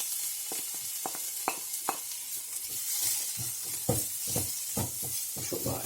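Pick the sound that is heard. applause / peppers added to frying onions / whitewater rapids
peppers added to frying onions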